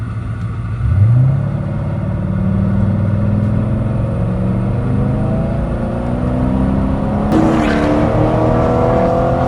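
A 1982 Porsche 928 with its V8 pulls away hard from a standstill, the engine note climbing through the gears with a shift partway through, loud and close.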